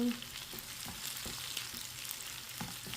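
Longanisa sausage cooks in a pan with a soft, steady sizzle and crackle, faint and continuous throughout, with no talking.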